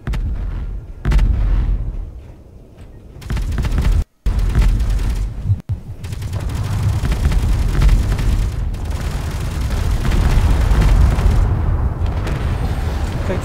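Weapons firing and explosions in the game Space Engineers: a dense, loud barrage of booming blasts and heavy gunfire rolling on continuously, with only a couple of brief breaks near the start.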